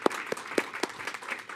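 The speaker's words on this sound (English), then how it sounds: "Let's give a round of applause for the presentation." A small audience at a school board of trustees meeting gives a few scattered, faint claps for a presentation, sparse and quickly fading rather than a full ovation.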